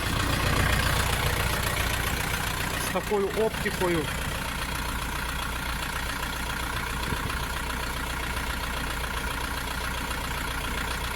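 Orion RF404R Pro tractor engine idling steadily, a continuous low rumble throughout with a person talking over it.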